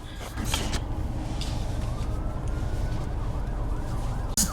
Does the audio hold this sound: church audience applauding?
no